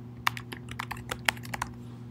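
Fingers type on a computer keyboard in a quiet room, a quick, uneven run of soft clicks with a few sharper keystrokes, close and fairly faint.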